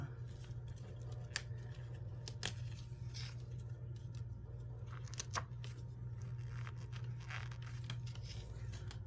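Scissors snip through sheets of paper pieces for a board game rather than tearing along the perforations, giving faint, sparse cuts and rustles over a steady low hum.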